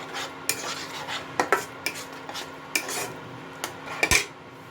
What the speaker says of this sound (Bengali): ভালো মতো মিশিয়ে নেব মশলার সাথে।